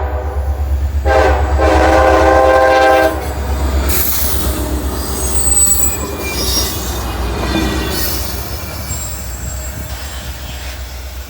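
A freight train with six locomotives, an SD40-2 leading, rumbles past close by in snow, wheels squealing and clattering, with a horn blast early on before the roar gradually eases off.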